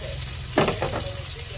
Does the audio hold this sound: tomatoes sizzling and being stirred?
yes